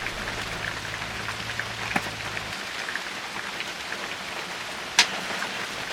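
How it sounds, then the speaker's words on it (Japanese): Sudden rain falling outdoors during a Subaru Sambar TV1 air-conditioning compressor replacement, a steady broadband patter of drops on surfaces with a sharp nearby tap partway through; no talking. "先ほどまで天気だったところの突然の雨"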